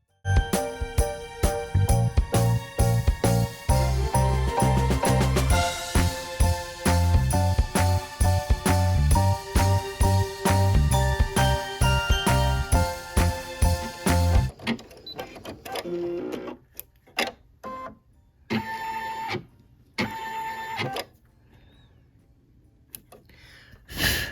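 A home embroidery machine stitches a placement line on a hoop project, running a fast, rhythmic mechanical chatter that stops partway, then gives a few short, separate bursts of stitching with pauses between.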